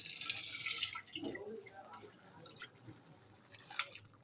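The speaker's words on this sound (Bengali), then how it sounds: "দাঁড়ান একটু জল দেবো।" Water is poured into a curry of potato and peas with green chilli cooking in a pan, a brief splashing gush followed by faint drips and sizzles, with someone speaking softly.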